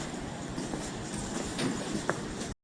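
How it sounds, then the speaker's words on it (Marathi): A train heading toward Zurich rumbles past at a moderate distance, a steady broadband roar with faint clicks and a brief squeal, continuous until the sound cuts off abruptly at the end. "हे बघा समोरून ट्रेन चालली आहे झुरिककडे जायला"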